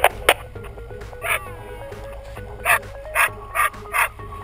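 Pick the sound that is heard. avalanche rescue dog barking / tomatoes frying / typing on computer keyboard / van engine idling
avalanche rescue dog barking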